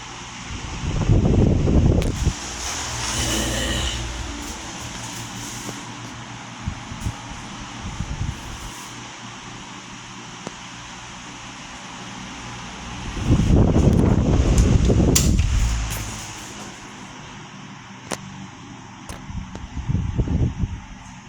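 A 1981 NorthernAire 16-inch oscillating table fan, Model 2916, runs with a steady breezy whoosh. Louder gusty surges and wind buffeting on the microphone rise and fall as the fan oscillates toward and away from it, and no one speaks.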